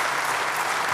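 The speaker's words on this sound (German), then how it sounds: "großen Applaus für die Jungs" A moment of steady applause from a large conference audience at a hacker congress year-in-review talk, a dense, even roar of many hands clapping.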